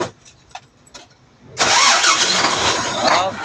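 A Mitsubishi ten-wheeler truck's engine, with a leaking transmission fluid line near the radiator, cranks and catches at about 1.5 s, then runs loud and steady. Soft speech and knocks come before it starts.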